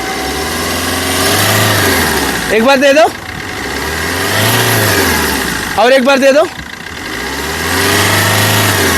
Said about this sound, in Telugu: ఇంజన్ యొక్క నాయిస్ కూడా చాలా సైలెంట్గా అయితే ఉందండి